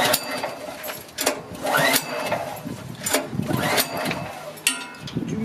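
The petrol engine of a Euromair 18 280-bar high-pressure roof washer is pulled and sputters to life with uneven chugging bursts and clattering, up close, as someone talks.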